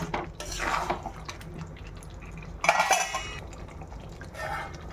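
Lid set onto a pot of simmering chicken curry, with a few metallic clanks and scrapes of lid and pan between quieter bubbling and dripping, close and moderately loud, no speech.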